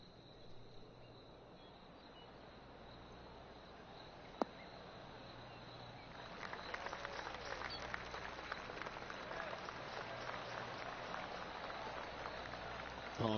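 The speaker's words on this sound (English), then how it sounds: "Oh, golf clap." Polite golf-clap applause from the gallery in the PGA Tour 2K23 golf video game after a second shot at the 15th hole. It swells from about halfway through as a steady, moderate spatter of claps over a quiet ambient background.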